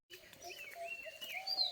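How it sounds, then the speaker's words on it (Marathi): Small birds, sparrows, chirping on a morning in rural Konkan, with a steady run of faint, high twittering calls that continue through the whole moment, fairly distant and soft. "चिमण्या चिवचिव करतायत"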